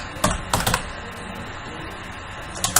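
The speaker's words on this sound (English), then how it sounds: "Just go to your start and type create a restore point." Typing on a computer keyboard, heard as a few quick, close clusters of key clicks against a steady background hiss.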